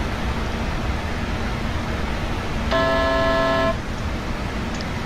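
An E190 airliner's speed brake deploys in the Prepar3D flight simulator: a steady harmonic tone rises for about a second over the constant cockpit rumble, then cuts off, with no talking.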